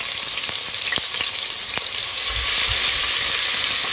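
Ginger and garlic fry in hot oil in a cooking pot, a bright, steady sizzle with occasional sharp pops and low stirring bumps, loud and close throughout without any speech.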